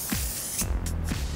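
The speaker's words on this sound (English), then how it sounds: "and just spraying that all over the hair." Redken Wax Blast hair spray hisses from an aerosol can onto hair in a few short, close bursts with brief pauses between them.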